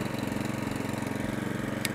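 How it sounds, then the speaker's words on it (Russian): Honda engine on a Caima flail mower idling at minimum revs, a close, steady rapid pulsing chug with an even rhythm throughout and a brief high click near the end. "Обороты минимальные, хондовский мотор, конечно, работает чумовой"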